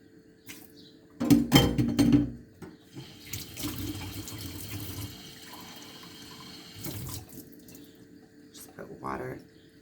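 Water from a kitchen tap runs into a small dish meant as a barrier against ants, a close, loud splashing burst followed by softer trickling and dripping with clatter of dishes; someone talks briefly.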